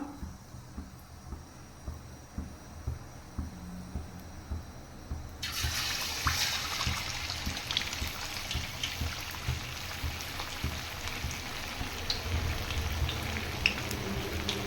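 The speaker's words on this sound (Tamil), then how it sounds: "எண்ணெய் சூடாயிருச்சு இப்போ நம்ம லெக்கு போட்டுக்கலாம்" Chicken leg pieces dropped into hot oil, a soft ticking bubble that suddenly swells into a loud, steady crackling sizzle that carries on.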